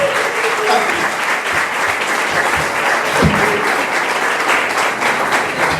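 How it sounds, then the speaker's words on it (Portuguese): A church congregation applauds steadily after a healing testimony, dense sustained clapping filling the room at close range, with a few voices mixed into the crowd noise. "vamos aplaudir ao Senhor por esse milagre"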